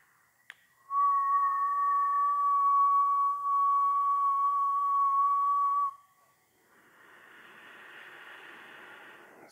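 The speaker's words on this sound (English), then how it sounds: "If you can't whistle inhaling, just act like you are." A steady high whistling tone carried on a long inhaled breath during a Kundalini yoga breathing exercise, held for about five seconds after a faint click, then giving way to a softer airy rush of breath.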